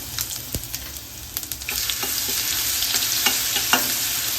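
Cumin and asafoetida sizzle and crackle in hot oil, with a few sharp pops and spoon clinks over a steady frying hiss.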